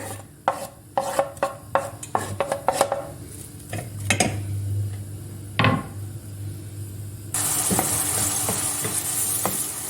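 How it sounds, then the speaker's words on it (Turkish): A spoon clinks and scrapes against a pan several times over a soft sizzle of onions sautéing in butter, followed by a steady louder frying hiss. "Hepsini beraber güzelce soteliyorum"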